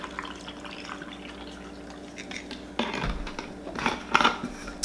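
Homemade iced coffee is poured into a glass almost to the top, giving a short, close splashing pour with light clinks that swells near the end over a quiet kitchen background.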